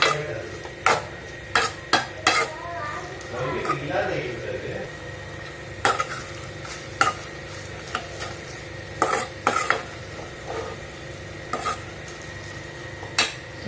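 Chow chow curry stirred in a pan, repeated crisp spoon clacks and scrapes against the metal at an uneven pace over a low sizzle, close and moderately quiet, no talk.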